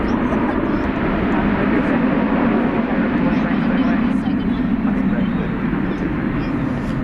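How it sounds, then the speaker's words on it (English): Jet engines of an American Airlines Airbus A321 airliner at DFW at night produce a loud, sustained rushing roar that stays steady throughout, with voices talking over it. "It's an Airbus A321."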